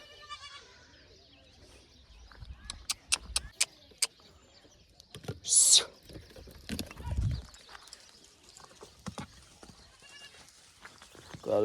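Goats bleat in a few short, scattered calls at close range, separated by quiet gaps with clicks, knocks and other farmyard noises.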